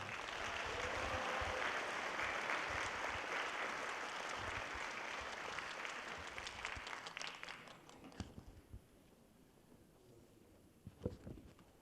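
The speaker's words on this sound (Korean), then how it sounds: "여러분 큰 박수로 맞아주시기 바랍니다" Sustained, dense applause fills a roughly 600-seat hall at a Gochang County cultural city designation briefing as a speaker comes to the stage, holding steady for about eight seconds before thinning into a few scattered claps.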